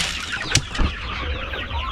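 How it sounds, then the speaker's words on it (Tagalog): Farm chickens give short clucks, with a brief wing flap or scuffle partway through, close by against steady background noise. "Kapag ka ganyan karami ang manok mo"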